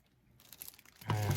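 A plastic bag is crinkled and rustled while a marine MOB1 device is unpacked, soft handling noises building into a louder, close crumple at the end.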